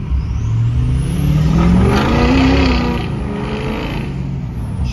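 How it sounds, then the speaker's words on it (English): A 2006 Ford F-250 diesel engine revs up close and loud, rising and then settling back in a steady throaty roar with a high whine riding on top, no talking. "Listen to that diesel."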